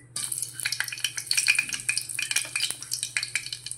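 Green chilies frying in hot oil for a chicken liver curry, with a busy crackling sizzle and rapid popping bursts throughout, close and fairly loud, with no talking.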